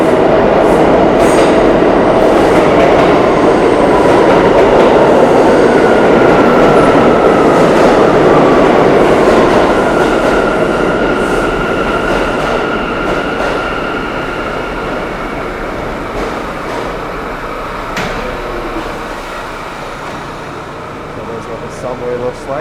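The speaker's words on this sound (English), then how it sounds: "R179 A train." An R179 A train arriving on the New York subway in Washington Heights, a loud rumbling and screeching roar that builds, then slowly fades as the train slows.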